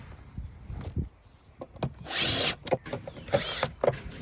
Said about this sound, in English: Now we're going to put a small self-tapping screw, once again a stainless steel self-tapping screw, inside each of the holes that we just drilled.